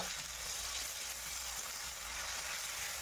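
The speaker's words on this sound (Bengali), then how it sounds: "মশলাটি খুব ভালো করে তেলের মধ্যে একটু কষিয়ে নিতে হবে" Ginger-cumin spice paste frying in hot oil for a fish curry, giving a steady, close hiss and sizzle that holds evenly throughout with no voices.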